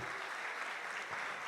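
Continuous, even applause from a large church congregation, a wash of clapping that stays level throughout.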